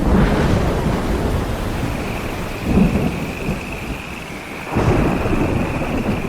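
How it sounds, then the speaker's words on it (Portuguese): Deep thunder rumbles roll in and out under steady heavy rain over prairie, two or three swelling peaks over a constant wash of downpour. "Nuvens negras se reuniram, trazendo consigo o estrondo de trovões ecoando pelas pradarias."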